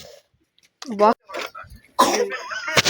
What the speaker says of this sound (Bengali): ওরে বাবা রে, কাশি হচ্ছে শোনা